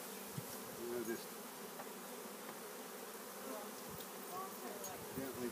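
A swarm of honeybees from a newly delivered package hums steadily and fairly close during hive installation, a continuous buzzing drone with individual bees flitting past, no talking.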